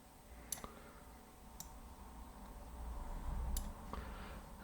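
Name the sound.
computer mouse clicking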